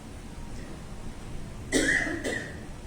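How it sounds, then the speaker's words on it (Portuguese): Two close, sharp coughs in quick succession from one person, following a stretch of quiet room noise. "Peço desculpa porque estou com tosse"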